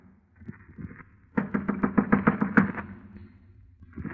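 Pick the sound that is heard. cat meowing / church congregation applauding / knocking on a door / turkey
knocking on a door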